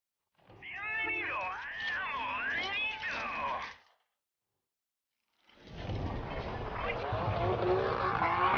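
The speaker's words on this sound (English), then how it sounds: "Why are there car sounds?" BioShock Remastered car sounds, revving engine tones and squealing tires that rise and fall in pitch, in two loud bursts separated by a few seconds of silence.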